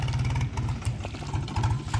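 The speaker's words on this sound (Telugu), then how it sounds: "బీటెక్ అబ్బాయి ట్రాక్టర్ని నడుపుతుండు." A tractor engine chugs steadily in a paddy field, its low pulsing idle rhythm loud and close throughout, with no talking.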